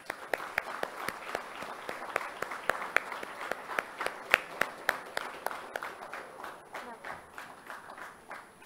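A ceremony audience applauds the Union Finance Minister as chief guest walking to the dais at an anniversary celebration, with sharp individual claps over a steady clapping bed that thins toward the end.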